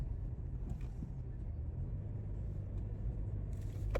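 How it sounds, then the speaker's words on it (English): Steady low road rumble inside a rented black Toyota Camry cruising along the highway, a constant engine and tire drone heard from the cabin, with no talking. "So we're driving a little Camry here, a little blacked out Camry."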